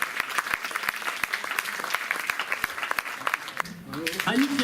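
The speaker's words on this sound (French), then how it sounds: "applaudissez-les" Audience applause at an association's general assembly, steady clapping from a modest crowd for about four seconds before a voice speaks at the end.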